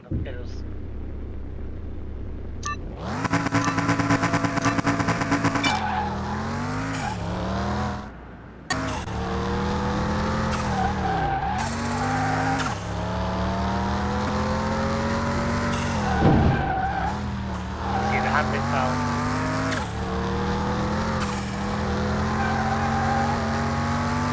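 Engine of a powerful four-wheel-drive car on a fast lap in Car Mechanic Simulator 2021, revving hard through rising and falling gear shifts with tyre squeal, loud and steady almost throughout, with someone talking over it.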